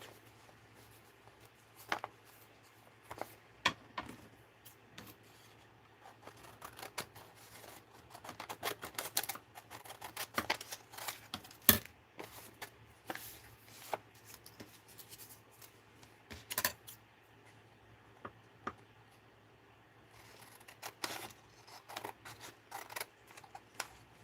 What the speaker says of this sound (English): I think I'm gonna cut it.